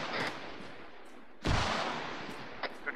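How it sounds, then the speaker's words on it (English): A .50 cal machine gun fires in Arma 3, distant booming reports and a heavy close crack mid-clip, followed by a lingering rumble and a few fainter later shots. "There was a 50 cal firing at us."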